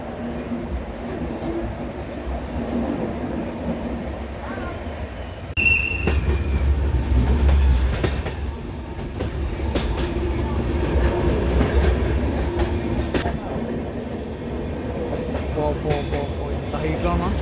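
A passenger train runs on the Visakhapatnam–Araku hill line near Borra Caves, its steady rumble and rattle carrying throughout, with a few brief wheel squeals and clanks rising above the continuous rolling noise.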